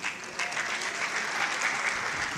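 Applause from a trade union conference audience, a dense burst of clapping from many hands filling the hall, moderately loud and steady, lasting a couple of seconds.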